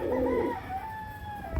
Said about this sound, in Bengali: আপনারা জাস্ট কবুতর পেয়ারটা দেখেন